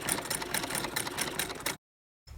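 A sewing machine stitches around a fabric bag with a fast, steady mechanical whirr, then stops abruptly into silence before a brief restart.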